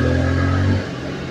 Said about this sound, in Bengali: আমার বাইকের এই সাউন্ডটা আমার ভালো লাগে।